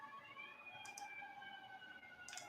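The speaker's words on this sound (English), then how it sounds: "Look at the ambulance." An ambulance siren wails steadily outside, its tone rising and falling slightly as it passes, fairly faint and distant with a couple of brief clicks over it and no talk.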